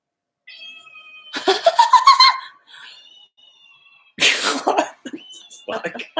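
A woman on stage at the Miss Universe 2021 pageant imitates a cat's meow with her voice: two bursts of drawn-out, wavering vocal meowing, loud and close, separated by a quieter gap with faint murmuring.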